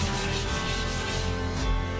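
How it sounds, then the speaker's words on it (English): Light scuff sanding by hand over raised, fuzzy wood grain on a home-center table top, a steady close rubbing hiss that holds level without pause throughout. "Scuff sanding is pretty much required here,"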